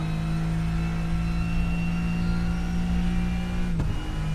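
Steady, sustained engine drone of a Porsche GT3 race car in a racing video game at Monza, holding a constant pitch at high revs with a brief blip near the end, no talk.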